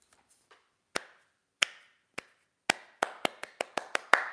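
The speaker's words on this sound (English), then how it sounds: "Slow clap." Isolated hand claps start slowly with long gaps, then quicken into a faster run of sharp, close claps, a few faint taps at the very beginning.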